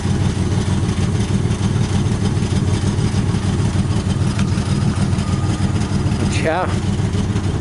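Firebird car engine idling roughly with a steady misfire, a continuous low rumble with uneven pulsing that runs the whole time under brief talk.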